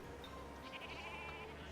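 Sheep bleating in Civilization 5, a faint short bleat amid the game's background music and ambience, with talk underneath.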